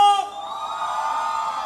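A live concert crowd at La Cascada Club in Jicamarca gives a sustained, loud cheer and shout for the singer on stage, the roar holding steady after a brief opening peak.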